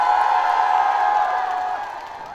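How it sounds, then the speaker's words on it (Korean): Crowd at an outdoor civic concert in Ulsan roars and cheers, a sustained loud wash of voices and whoops that gradually fades over a couple of seconds. "함성도 한번 질러보세요."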